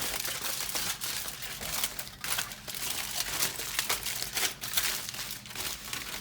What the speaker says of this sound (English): Crumple it up a little bit.